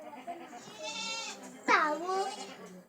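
Sheep bleating nearby, a few shorter calls followed by one loud, wavering bleat, with other faint bleats around it.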